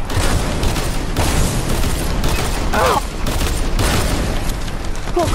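Fortnite gunfire in a dense, continuous barrage of overlapping shots and booms that fills the short stretch at steady loudness, with a voice briefly heard among the shooting.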